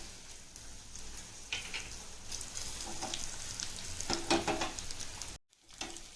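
Curry leaves, chana dal, garlic and dried red chillies sizzle and crackle in hot oil in a pan, a steady low frying hiss with occasional louder pops and stirring scrapes, then a brief drop to silence near the end.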